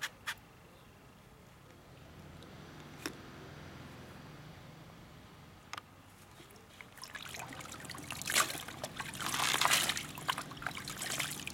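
Water sprays and trickles onto a small face, with a few sharp splashes early and a louder, denser hissing spray building toward the end, close by and without talk.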